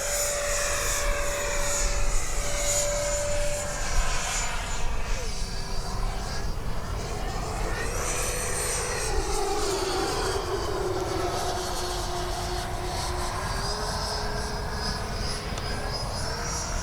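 A radio-controlled Freewing 70mm Me 262 jet flies overhead, its ducted-fan whine holding steady, then rising and falling in pitch as it passes and circles, continuous and moderately loud for the whole stretch.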